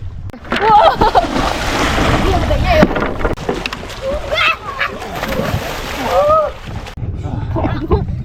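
On Myanmar's Inle Lake, people play in the water with repeated loud, close splashes and sloshing from a boat, while voices call and talk over the splashing.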